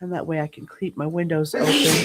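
A sharp sneeze bursts out right after a stretch of speech, a single loud, breathy burst near the microphone.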